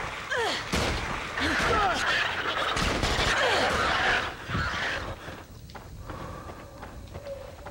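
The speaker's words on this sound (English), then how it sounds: "Oh, this is the Tommy gun." A Tommy gun in a King Kong video game fires in loud, rapid bursts that clatter over several seconds, then fade, with game effects and a voice talking over the shots.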